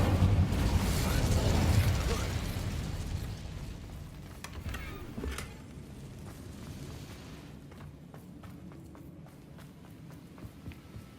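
An Incendio fire spell is cast in Hogwarts Legacy, opening with a loud, bursting fiery whoosh that fades over several seconds, followed by scattered clicks, taps and small mechanical noises.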